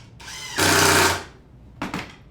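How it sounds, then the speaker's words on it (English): A drill driver runs a screw into a wooden Christmas tree shelf with one loud, steady whirring burst lasting about half a second, bracketed by quieter motor noise before it and a short second spurt at the end. "Sure is nice to have a drill driver combo,"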